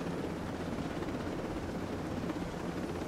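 Helicopter in the Ghost Recon Breakpoint video game, a steady broadband rotor and engine rumble holding at an even level throughout, with no talk over it.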